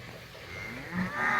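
Cattle mooing during a single-handed cattle drive along a lane in Ireland, with a low, drawn-out moo rising and swelling close by and several overlapping bellows building toward the end.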